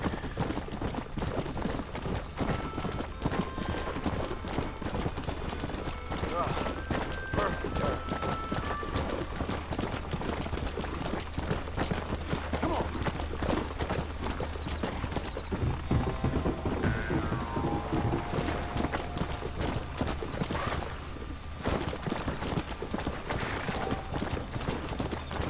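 Hooves of a war horse in the video game Red Dead Redemption clip-clop steadily at a trot for an extended stretch, rhythmic and continuous over a soft outdoor ambience, with occasional faint game sounds.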